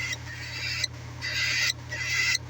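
Hand-fed cockatiel chicks during a feeding session, giving a string of raspy high-pitched begging squeaks in three bursts over a steady low hum, close to the microphone.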